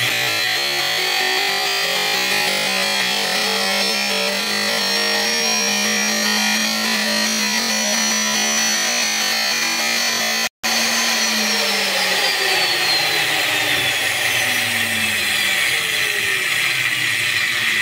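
Electric vehicle motor running on a LiFePO4 battery bank with the capacitor removed, a loud whirring whine whose pitch rises steadily, then after a brief dropout the tones sweep and fall.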